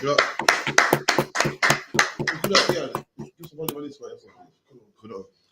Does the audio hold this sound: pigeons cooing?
no